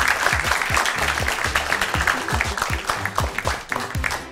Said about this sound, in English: Let the applause flow.